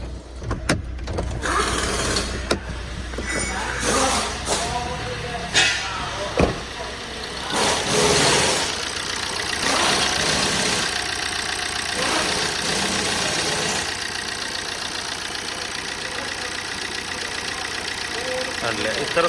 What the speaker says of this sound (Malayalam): ഞാൻ ഇതിൻ്റെ സൗണ്ട്, എൻജിൻ സൗണ്ട് ഒന്ന് കാണിച്ചു തരാം